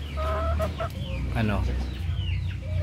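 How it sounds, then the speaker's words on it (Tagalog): Three 45-day-old broiler chickens cluck and murmur nearby in short, irregular calls over a constant low background hum. "ito nga pala po yung ating 45 days na broiler, 3 po sila"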